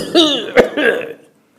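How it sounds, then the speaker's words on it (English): A man gives a few harsh coughs and throat-clearing bursts, close and fairly loud, clustered over about a second before trailing into silence. "I think I also am coughing a lot today."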